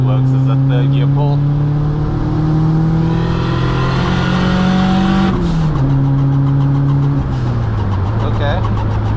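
A 260kW 16VT Mk2 GTS pulls hard through third gear, its engine note climbing steadily and loud inside the cabin, then dropping sharply at the shift and settling at a lower drone.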